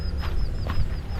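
Peacock flapping its wings in a series of quick rhythmic whooshing beats, close and fairly loud, with no talk.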